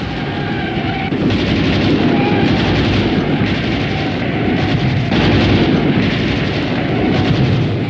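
Loud, dense rumbling barrage like continuous heavy gunfire or artillery, a constant roar with rapid crackling bursts throughout.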